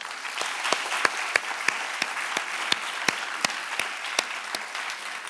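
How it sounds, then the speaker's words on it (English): An audience at a lecture gives a woman a round of applause. The crowd clapping is steady and even, and sharp individual claps stand out in a regular pattern above the general wash. "Let's give her a round of applause."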